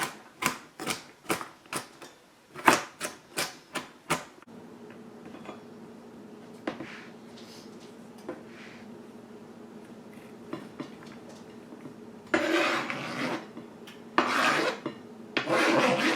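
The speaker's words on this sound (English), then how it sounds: "I'm just going to quickly rough chop this carrot" A knife rough-chops a carrot on a board, first a quick run of sharp, evenly spaced chops, then a quieter pause with faint scrapes, and finally bursts of rasping, scraping strokes near the end.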